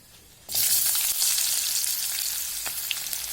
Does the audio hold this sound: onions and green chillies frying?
yes